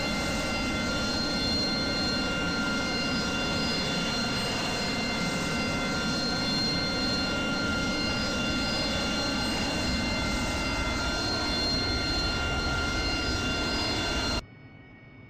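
AV-8B Harrier jet engine in the DCS World flight simulator, a steady loud roar with a constant high whine throughout, cutting off abruptly near the end to a faint residual hum.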